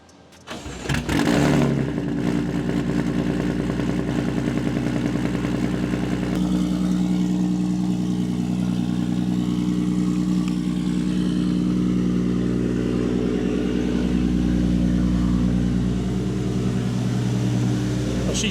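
A BMW S55 car engine on a dyno cranks and catches, then runs loud and steady with a deep, throaty rumble that holds for the rest of the clip.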